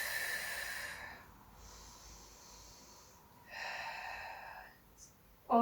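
A person exhales and inhales during a side-body stretch in a mixed-ability Pilates class: a few soft, airy breaths, with a slightly louder outbreath and a brief sharp sound at the end.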